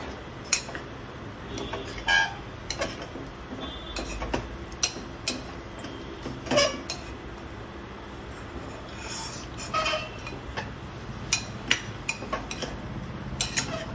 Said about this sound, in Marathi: आणि आता आपण भरलेली तोंडली याच्यात टाकणार आहोत आणि मसाल्यामध्ये ही छान मिक्स करून घ्यायची आहे।